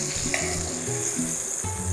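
Skirt steak searing in a hot pan, a steady bright sizzle and crackle of fat holding evenly throughout, close and alone with no talk.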